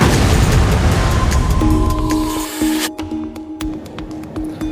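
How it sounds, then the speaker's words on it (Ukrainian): A loud, deep explosive boom in central Rotterdam, Netherlands, with a roaring broadband rumble that slowly dies away, followed by scattered debris-like clicks and faint tones. "У центрі міста лунає гучний вибух."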